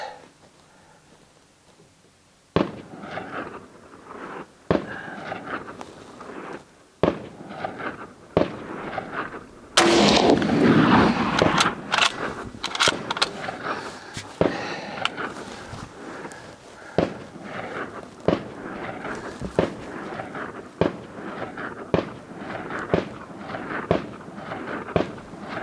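Five sharp rifle shots from a CZ-527 firing Wolf Polyformance ammunition crack out outdoors at a range, spaced several seconds apart, each loud and close with a short echoing tail.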